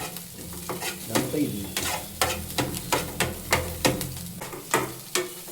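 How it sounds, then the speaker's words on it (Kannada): Onion fries in a pan while beetroot palya is cooked at home, a bright sizzle under repeated rhythmic spatula scrapes and taps against the pan, close and moderately loud with no talking. "ಈರುಳ್ಳಿ ಫುಡ್ ಫ್ರೈ ಆಯ್ತದೆ"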